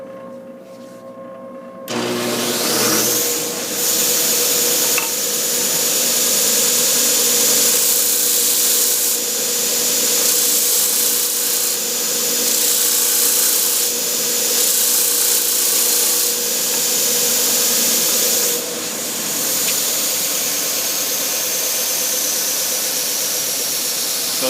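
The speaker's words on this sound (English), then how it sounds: "the belt and the disc are great for sanding edges like this" A belt and disc sander runs steadily as the edge of a bandsaw-cut wood piece is smoothed against it, a loud continuous whirring grind with slight changes in pitch as the piece moves back and forth.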